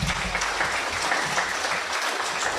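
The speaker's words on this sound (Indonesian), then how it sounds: "silakan tepuk tangan dulu Pak" Audience applause fills a launch event hall for the ATR/BPN Corporate University, a dense, steady clapping that holds for a couple of seconds without a break.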